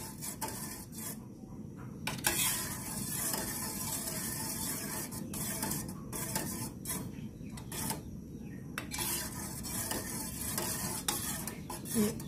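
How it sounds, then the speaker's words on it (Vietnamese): A vegan duck egg mixture is stirred in a pot, with a continuous rough scraping and swishing of a utensil over a low simmering hiss and occasional brief knocks. "Thì các bạn cứ khuấy đều như thế này"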